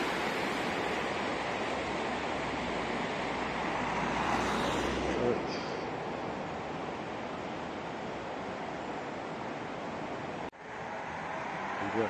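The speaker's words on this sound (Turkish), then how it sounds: "Fırtına Deresi yine muhteşem akıyor" A continuous, loud rush of flowing water fills the scene, steady and broad, the Fırtına River near Çamlıhemşin, Rize, Turkey, heard up close.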